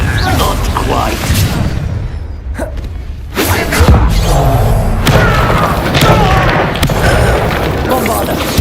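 Confringo fire spells blasting during a Hogwarts Legacy video game fight: repeated booming thuds and whooshing impacts over a dense battle din, with voices calling out among them.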